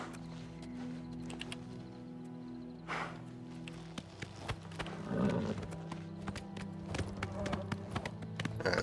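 A horse in the video game Oblivion Remastered gallops with fast, rhythmic hoof clip-clops that grow louder and more frequent, set over a soft game music bed, with a brief snort partway through.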